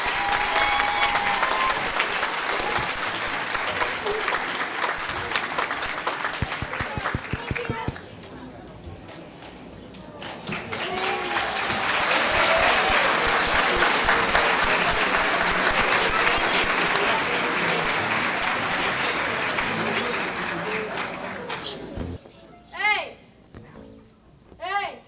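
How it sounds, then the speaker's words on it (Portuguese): A crowd applauds children's carnival dance performers at a Casa do Benfica club in São José, sustained clapping with children's voices and talk mixed in, fading briefly before swelling again and tapering off near the end. "Uma grande salva de palmas para eles."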